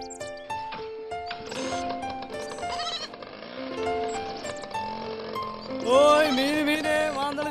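A goat bleats with a shaky, quavering cry near the end of a short film scene, set against bright background music.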